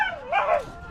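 A dog gives a single short, high-pitched yelping bark that rises and falls in under a second, close and clear.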